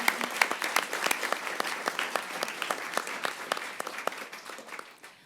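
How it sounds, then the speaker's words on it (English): An audience at a debate final applauds, dense clapping from many hands that gradually fades toward the end. "Let's give a big round of applause to our final two teams."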